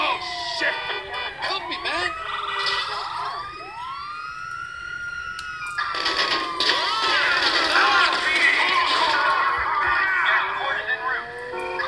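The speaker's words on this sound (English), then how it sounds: "Starting with first police cars at Los Santos or the LSPD cruisers." Police cruiser sirens wail and sweep up and down during a chase in GTA 5 on PS4, several overlapping and rising in loudness among game noise.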